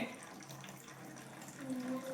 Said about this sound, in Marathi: पाणी बॉटल मध्ये ओतत आहे